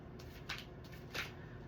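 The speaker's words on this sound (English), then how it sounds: "I think I say that every time I shuffle these cards." Sticky tarot cards being shuffled, faint and close, with two soft papery riffles a little over half a second apart against a quiet background.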